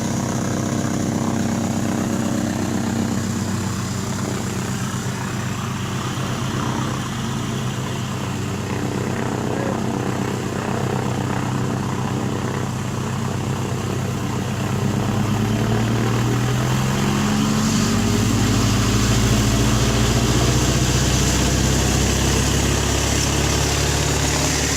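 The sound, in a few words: tow plane propeller engine while towing a glider aloft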